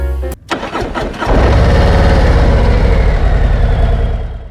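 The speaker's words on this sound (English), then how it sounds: "All right, we turn the bike on." A starter whirs briefly, then a motorcycle engine fires up loudly and settles into a steady, close idle.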